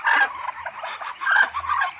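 A mother hen clucks in a backyard where ducklings have just hatched: a near, steady run of throaty fowl calls with short pauses, alone without talk.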